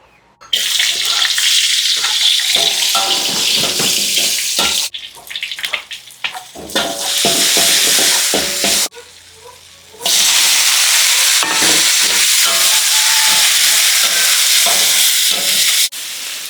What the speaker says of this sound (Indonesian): Tumis biasa, kasih bawang putih, cabai rawit, dan tentunya terasi.